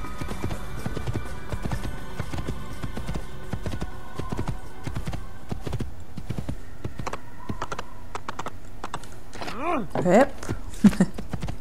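Horse hooves clop in the video game Assassin's Creed, a fast steady rhythm of riding with a whinny near the end, under a player's occasional German commentary.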